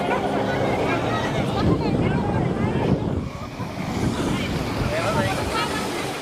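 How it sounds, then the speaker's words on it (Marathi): A speedboat races along a river at a festival, its motor and rushing spray mixed with strong wind noise and splashing water, loud and continuous, with voices faintly underneath. "नदीवर अशी वेगवान बोटिंग त्यांनी कधी पाहिलीच नव्हती"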